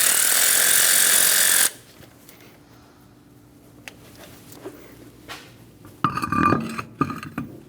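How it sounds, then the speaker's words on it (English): A bolt is snugged down on a 2008-2015 Scion xB with a 2.4L engine: a loud continuous whir of a power tool runs briefly, then quiet, followed by some metallic clatter of tools and parts. "Snug down the bolt."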